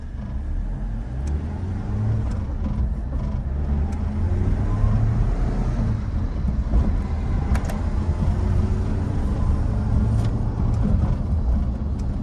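A 1996 Mitsubishi Pajero Jr runs steadily from inside the cabin, its engine droning in a low, constant rumble with road noise as the car drives on at moderate speed, with no talk over it.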